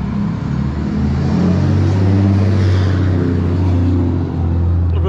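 Small cars passing on a road in the western USA, with a steady low engine rumble and tire noise swelling and easing as vehicles go by close.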